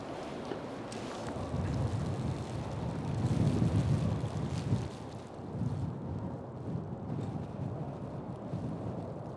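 A heavy blizzard blows outdoors in falling snow, a dense roaring rush of wind buffeting the microphone. It swells loudest partway through and then eases to a steady strong roar, with no talking.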